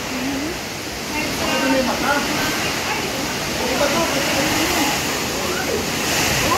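Typhoon Uwan's strong wind roars as a dense, unbroken rush of noise that holds steady and close throughout, with voices talking over it.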